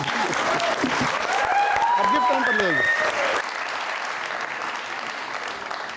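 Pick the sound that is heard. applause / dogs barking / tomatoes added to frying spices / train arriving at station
applause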